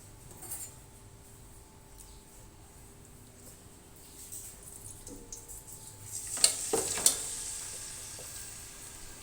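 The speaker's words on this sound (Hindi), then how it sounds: "अब ये हमारा ऑयल जो है गरम हो गया है, तो हम इसमें अपनी जो चिकन है इसको डालेंगे।" Whole chicken lowered into hot oil in a pan, a quiet steady sizzle for several seconds that grows louder, with a couple of sharp metallic clinks of utensils against the pan near the end.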